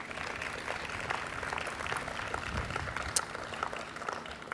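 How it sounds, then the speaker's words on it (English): An audience at a department's anniversary celebration panel applauds with steady, even clapping that stays fairly distant and uniform throughout. "let's give them a round of applause."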